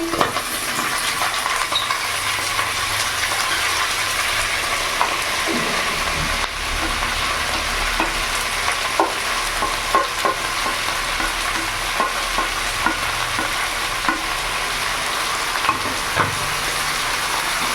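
Kharkol leaves frying in a pan over a raised gas flame, stirred continuously: a loud, dense, rain-like sizzle throughout with frequent small scrapes and ticks of the spoon, no talk.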